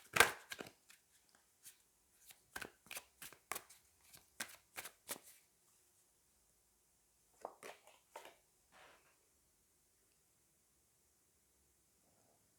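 Tarot cards riffled and drawn by hand, a quick run of crisp card snaps and flicks, then a short pause and a few softer card slides near the mic, with no talking.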